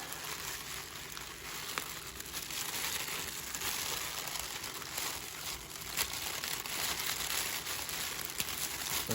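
Wrapping paper packed around a used N scale Bachmann train set crinkles and crumples loudly up close as it is pulled from a box, a continuous rustling with no talk.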